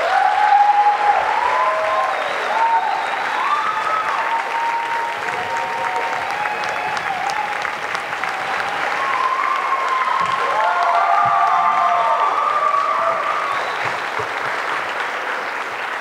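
Sustained applause from an audience at a youth leadership awards ceremony, with some cheering voices and loud, steady clapping filling the hall for the whole stretch.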